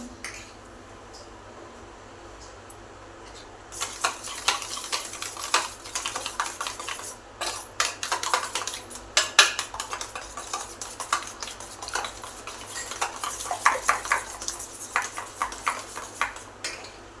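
Egg batter for appe being whisked in a bowl makes a rapid, continuous rattle of clicks and scrapes that starts abruptly after a few quiet seconds and keeps going steadily, close and fairly loud.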